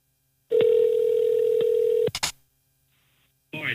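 A steady telephone dial tone holds for about a second and a half, then a short burst of keypad beeps follows as a call is dialed, ending in quiet before a voice begins.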